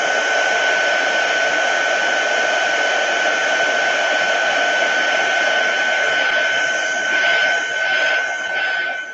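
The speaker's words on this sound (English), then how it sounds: "I'm gonna just put heat gun over it" A heat gun blows steadily and loudly over a watercolor painting to dry the paint, a constant whirring hiss that holds through the whole stretch with slight wavering near the end.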